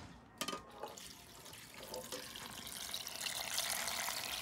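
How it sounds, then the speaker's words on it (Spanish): Water from soaking dried chiles poured into a blender while making Sonoran red meat tamales, a soft continuous splashing pour that grows fuller toward the end after a couple of brief knocks. "le voy a poner de la misma agua donde hidraté los chiles"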